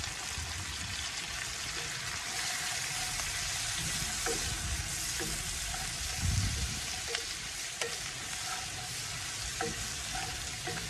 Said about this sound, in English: Now that oil's kind of warmed up, goulash, we got a 1-to-1 ratio meat and onions. Dropping all them onions down in there.